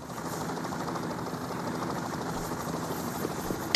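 A helicopter in the virtual-reality game PayDay 2 VR makes a steady, moderately loud rotor drone with rapid thumping blade pulses, continuous throughout with a brief louder burst at the very end.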